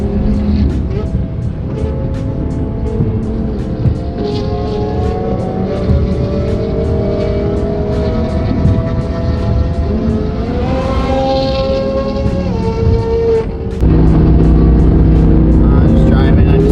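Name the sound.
1,300HP Audi R8 engine driving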